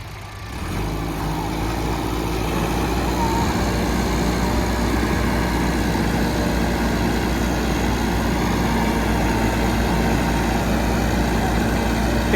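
A Massey Ferguson 385 tractor runs a 54-cutter rotavator at 2000 RPM during rice stubble field work, its engine a steady, loud, continuous drone with a dense low rumble and no pauses.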